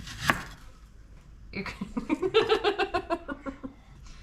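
A knife chops onion on a cutting board in a home kitchen, making a quick, steady run of about a dozen crisp taps at close range after one sharp knock at the start.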